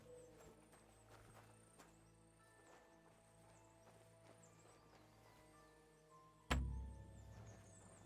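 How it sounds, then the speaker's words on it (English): A horse moving through woods in the video game Kingdom Come: Deliverance 2, with soft, faint hoof clops under a quiet forest ambience and a deep thud near the end. "A horse? What's it doing here in the woods?"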